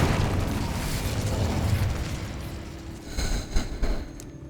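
An Incendio fire spell bursts in Hogwarts Legacy, a loud rumbling roar of flame and blast that holds steady and then fades, ending in a few sharper crackling bursts.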